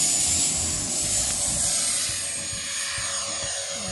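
A Freewing Me-262 radio-controlled jet with twin 70mm electric ducted fans takes off from right to left, making a steady, broad rushing roar with a high whine that holds at moderate distance throughout.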